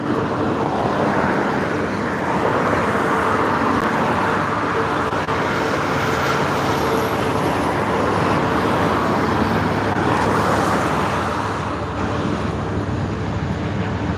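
Steady morning road traffic with cars, buses and trucks rolls past in a continuous loud roar, with no breaks and no talk.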